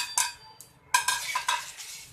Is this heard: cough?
no